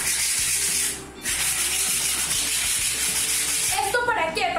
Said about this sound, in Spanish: ahora lo que vamos a hacer es lijar un poco lo rústico de la madera